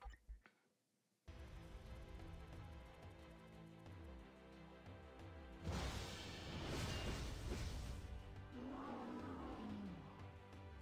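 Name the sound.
creature roaring in a Marvel video game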